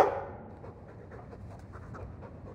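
A dog pants steadily in the Dragon Age 2 video game, its quick, breathy rhythm running close and moderately loud for the whole stretch after a brief sharper sound at the start.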